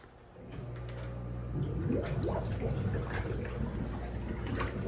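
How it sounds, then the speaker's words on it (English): Whirlpool jacuzzi tub at a Westin hotel in Maui, Hawaii, its jets switched on at the lowest setting: water starts rushing and churning steadily after a quiet start, a continuous close bubbling wash with a low motor hum underneath. "So let's turn these down to the lowest setting, and hit the button."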